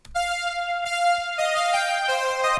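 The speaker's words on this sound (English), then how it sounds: "Like it's really drenched in reverb, but instead of drowning you, it kind of wraps around you" A Serum synth patch drenched in Valhalla Vintage Verb reverb plays a sustained, stepping melody of bright held tones, steady and full throughout with a lush wash around it.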